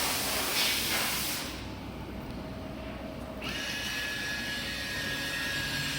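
AMI 207 orbital TIG welder with a closed weld head and 2-inch collets running a weld, a steady close hiss and hum that shifts in tone partway through as a thin tone appears near the end.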